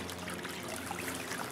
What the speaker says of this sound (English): right over the other side of this fence is a nice little brook or creek.